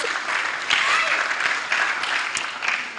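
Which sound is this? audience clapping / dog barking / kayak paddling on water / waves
audience clapping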